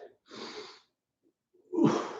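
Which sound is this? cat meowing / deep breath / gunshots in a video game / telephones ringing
deep breath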